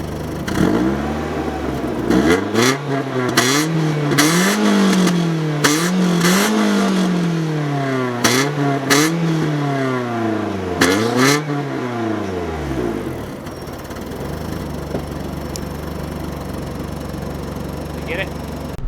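A BMW E36 318is is revved repeatedly, close and loud. Its engine note climbs and falls in a string of sharp blips before it settles back to a steady idle.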